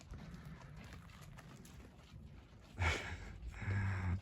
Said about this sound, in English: These horses decided that they're gonna just trot on through camp here.